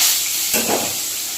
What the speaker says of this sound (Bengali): মাছগুলো ভেজে নেবো এখন ভালো করে।